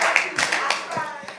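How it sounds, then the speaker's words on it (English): Clapping from a youth group rewarding a correct quiz answer, a quick burst of several hands close by with talk running over it. "Let's clap him up."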